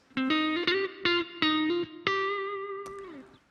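A distorted electric guitar plays a short melodic phrase of several picked notes, ending on a long sustained note that rings out with effects.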